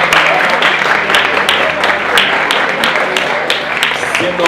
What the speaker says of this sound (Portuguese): Os outros podem aplaudir